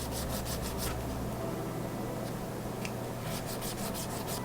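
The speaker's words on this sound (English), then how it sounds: "Now I'm just filing the sides down until they're nice and smooth." A file scrapes the sides of a paper hidden blade smooth in quick, close rasping strokes, several short bursts at the start and end with a steadier rub between.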